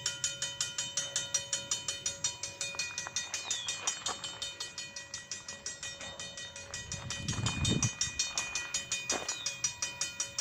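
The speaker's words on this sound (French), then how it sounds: "Le 306 vient de mettre les freins en urgence." An eastbound CN freight train, number 306, braking in an emergency at St-André, Kamouraska, with rapid rhythmic clicking of wheels, screeching tonal brake squeal and a louder low rumble surge near the middle, close and continuous.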